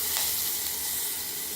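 Ginger and green chilies sizzle in hot oil with asafoetida, a steady close hiss of frying that starts with a brief louder burst and holds for the rest of the moment.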